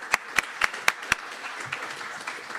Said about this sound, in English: And then also, we'll give a round of applause to Todd as he makes his way up here.